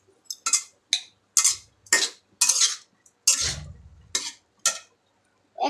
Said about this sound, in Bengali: এখন এটাকে ভালোভাবে মিশাবো